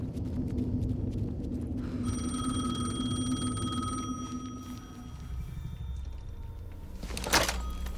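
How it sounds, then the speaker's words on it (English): A telephone rings in Alan Wake 2, a steady electronic tone sustained over a low game ambience, followed by a brief louder clunk near the end. "The phone again."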